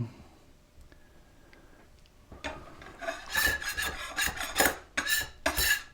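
The back of a barn wood offcut being flattened with a hand tool: after some faint scattered clicks, a series of loud, rasping scraping strokes follows in an uneven rhythm, close by with no speech.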